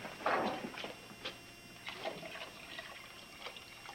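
Water poured from a container into a vessel, a soft splashing trickle that starts strongest then tapers into lighter intermittent dribbles, close by in a quiet room.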